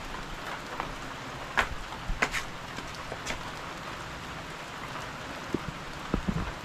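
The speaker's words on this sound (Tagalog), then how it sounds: "Ang lakas ng ulan." Heavy rain pours steadily and close by, a dense wash of hissing drops with a few sharper splashes and knocks standing out against it, and no voices.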